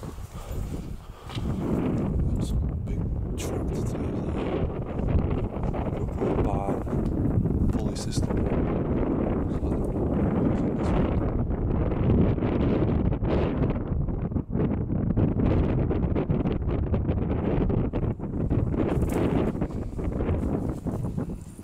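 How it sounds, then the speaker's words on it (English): Strong wind buffets the microphone outdoors near an old building, a steady broadband roar running almost unbroken through the whole stretch with gusty swells. "Sorry about the wind if it is a bit windy"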